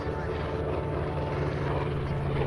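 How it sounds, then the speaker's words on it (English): A WWII TBM Avenger torpedo bomber takes off at an airshow, its piston engine and propeller giving a loud, steady, continuous drone with no breaks. "Taking off now, the TBM Avengers, the torpedo bombers that served on board U.S. aircraft carriers."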